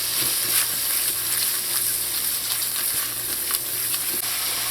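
Curry crab sauce with lemon pepper and fish seasoning sizzling in a pan as it is stirred and tossed, steady close frying hiss with intermittent scraping strokes, no talking.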